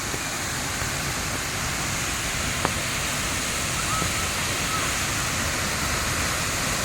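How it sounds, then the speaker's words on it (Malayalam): The Man Pilavu waterfall roars forcefully on a heavily rainy day, a steady dense rush of water filling the whole stretch, close and unbroken. "ഭയങ്കര ശക്തിയോടാ വെള്ളം ഒഴുകുക"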